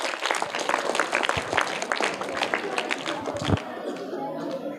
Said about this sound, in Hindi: तो इनके लिए भी जोरदार तालियां हो जाए।